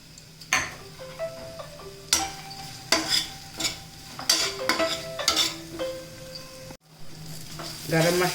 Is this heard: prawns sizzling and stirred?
yes